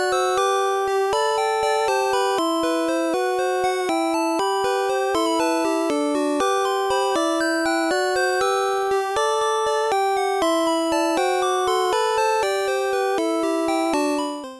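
Pallet Town melody from the Pokémon video game played in three voices, a clean, steady sequence of bright tonal notes moving in even rhythm for the whole stretch, alone with no talking.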